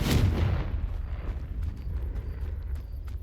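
A Confringo fire-blast spell explodes in Hogwarts Legacy, a loud, close burst that fades into a low rumbling tail with faint crackles.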